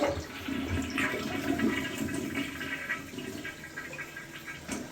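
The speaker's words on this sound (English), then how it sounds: "Let's flush the toilet." A household toilet with clogged drain problems flushing up close, a steady rushing and gurgling of water that fills the whole stretch without any talking.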